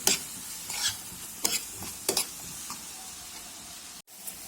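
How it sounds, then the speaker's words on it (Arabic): Onion and spices frying in oil are stirred in a pan, with several crisp scraping strokes over a faint continuous sizzle, close up and quiet, ending with a brief knock. "صافي دابا نخلطها ونخليها تقلى مزيان."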